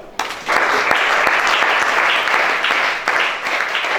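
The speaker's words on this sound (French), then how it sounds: "Acclamons Shaddai." A church congregation at a deliverance service bursts into loud, sustained applause that starts abruptly and continues steadily, with a few sharper claps standing out and brief vocal cheers mixed in.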